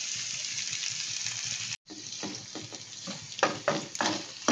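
Onion fries in a pan as chopped tomatoes go in, a steady close sizzle briefly cut off, then resuming with bursts of spattering and scraping stirs against the pan.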